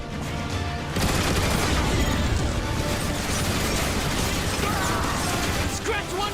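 Turret gun emplacements fire in the Transformers: War for Cybertron video game, a dense, loud, continuous barrage of rapid mechanical shots and bursts with clanking, carrying on without pause after a short quieter start.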